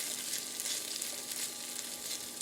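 Meat sizzles and fries in a hot pan while making a quick pasta dish, a steady close crackling hiss with faint stirring and no talking.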